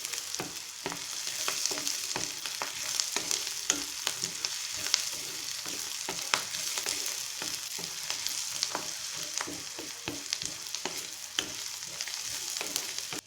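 Ingredients for a green peas masala frying in a pan until golden brown, a steady close sizzle broken by frequent crackles and the scrape of stirring throughout, with no voices.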